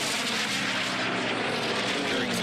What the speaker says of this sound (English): Dreadnought continues lapping, going past plane after plane in this 8-plane field.